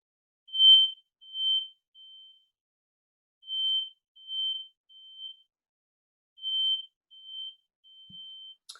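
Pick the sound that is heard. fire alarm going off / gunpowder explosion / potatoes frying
fire alarm going off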